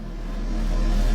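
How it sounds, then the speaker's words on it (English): An 808 bass swell in a music mix: a dense, low rumbling tone rising steadily in loudness throughout, heavy in the low end with a busy upper layer. "Along with an 808 swell, sounds like this."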